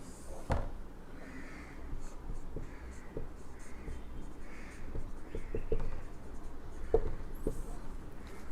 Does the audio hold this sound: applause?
no